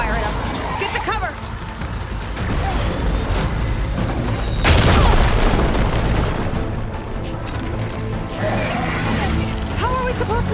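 Hostile machine in Horizon Forbidden West opening fire in combat, a dense game mix of booming blasts and mechanical clatter with a heavy impact near the middle, heard under a constant music-and-effects bed.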